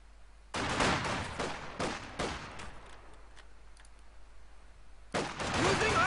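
German Grenadiers fire rifle grenades in Company of Heroes 2. Several sharp, loud cracks and bursts of gunfire sound close together, then a quieter stretch, then another heavy burst at the end. No one speaks.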